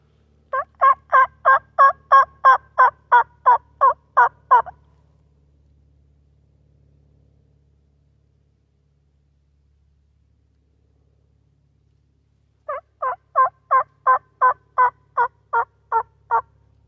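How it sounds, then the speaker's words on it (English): A wild turkey gobbles outdoors not far off, loud rapid bursts of repeated gobbles, one run of about ten calls, a silent gap, then another similar run. "all of a sudden we have a turkey gobbling"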